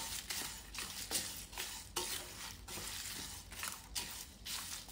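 Fennel seeds roasting in a hot frying pan, continuous dry sizzling with rhythmic scraping and stirring strokes, close and steady.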